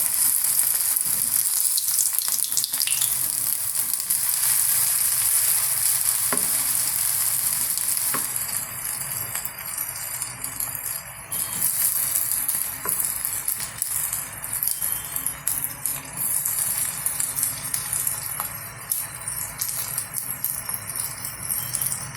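Red prawns drop into hot oil in a pan and fry with a loud, continuous sizzle, close up, with occasional clinks and scrapes of stirring; the crackle turns busier and grainier partway through.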